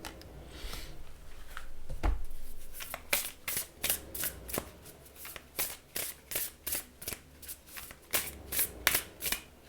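A deck of oracle cards is shuffled by hand, close up, a steady run of papery riffles and flicks lasting several seconds.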